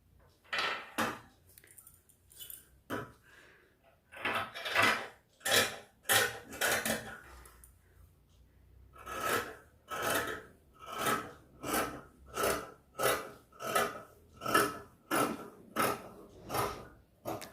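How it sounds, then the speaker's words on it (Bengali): Scissors snipping through dress fabric while cutting out a sleeve for a ruffled girls' dress, a run of short, close crisp snips in a steady rhythm with a brief pause midway. "এইভাবে আমরা হাতাটা কাটিং করে নেব।"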